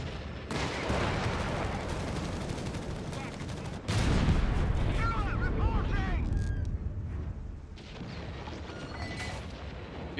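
Heavy battlefield gunfire from the strategy game Company of Heroes 3 pounds almost without a break, dense bursts of rifle and machine-gun fire layered with booming explosions, loud and continuous across the whole stretch.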